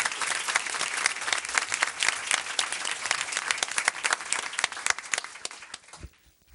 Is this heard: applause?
yes